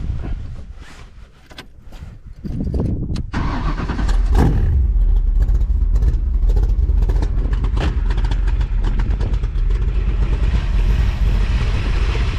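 A Factory Five MK3 car's 408 stroker engine cranks and catches, then roars into a loud, deep, sustained rumble with revving, close by.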